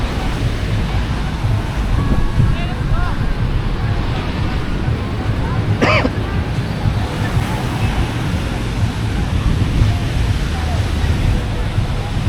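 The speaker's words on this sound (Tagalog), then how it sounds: "Ang lalakas din pala ng alon dito." Strong ocean surf breaking on a crowded beach in La Union, a steady loud wash of waves and wind noise throughout with faint crowd babble in the background.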